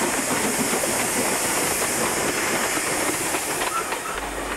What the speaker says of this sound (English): 5367 with a down empty stock train south of Murrurundi